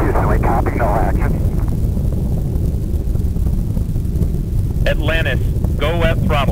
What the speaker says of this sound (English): all three engines now throttling down as the area begins, as the vehicle passes through the area of maximum dynamic pressure